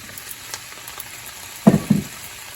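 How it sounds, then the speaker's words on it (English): Shrimp dropped into a hot pan for shrimp pasta, giving a steady low sizzle with two short, louder bursts of frying near the end, close by and with no talking. "We're gonna go ahead and add our shrimp and get that cooking."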